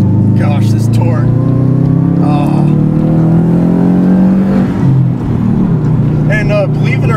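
A 2007 Subaru Impreza STI engine rises in pitch through repeated revving pulls, heard from inside the car as a loud, steady drone beneath someone talking, with the pitch dropping briefly before climbing again.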